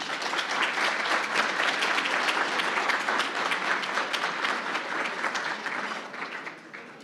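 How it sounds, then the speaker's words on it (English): An audience at a chamber of commerce annual meeting and awards banquet gives sustained applause, dense, even clapping that fades gradually at the close. "So please, a round of applause."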